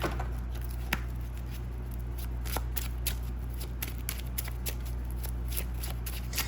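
Tarot cards are shuffled close up, a steady soft riffling patter with a few crisp card slaps, over a low constant hum.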